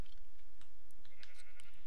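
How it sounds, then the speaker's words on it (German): A few short bleats from two sheep in Minecraft, game-style animal calls popping up briefly over a low steady background, fairly quiet and close with no voices. "Da muss ich die zwei Schafe hier noch mitnehmen."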